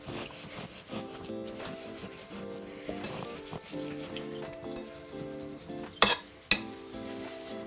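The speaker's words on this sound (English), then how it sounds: "Potato masher, mash away until the juices start to run." Fruit is mashed with lemon juice using a potato masher in a bowl, producing repeated soft squelching, rubbing pushes with a couple of sharper knocks against the bowl, while light music plays underneath.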